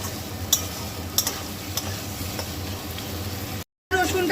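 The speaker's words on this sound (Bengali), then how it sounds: "এবারে এইটা কিন্তু খুব ভালো করে আমি নেড়ে নেড়ে ভাজা করব" Ginger-garlic paste stirred and fried in a pan for butter paneer, a steady soft sizzle with occasional scraping clicks of the spoon, close and moderately quiet, briefly cut off near the end.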